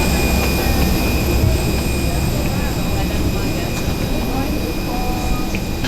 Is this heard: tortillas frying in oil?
no